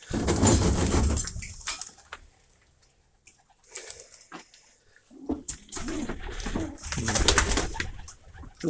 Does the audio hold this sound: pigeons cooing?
yes